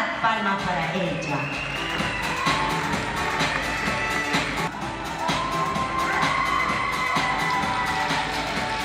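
An auditorium audience at the Nuestra Señora Utah 2022 event cheers and claps for a woman, a dense sustained roar of crowd noise and whoops with scattered claps, while an announcer's voice carries over it.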